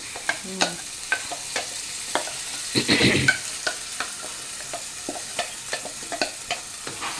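Ground moringa paste sizzling in a hot pan for a healthy soup, with regular spatula strokes scraping and stirring throughout and a brief louder burst partway through.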